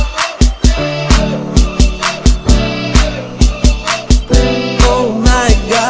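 Piano chords, built up by adding skipped notes, struck loud and close in a steady rhythmic pattern of repeated attacks with sustained ringing between them, played alone without talking.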